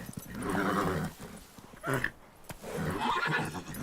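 Roach the horse whinnies and neighs in The Witcher 3, with a few snorting, breathy bursts close up and fairly loud, separated by short pauses.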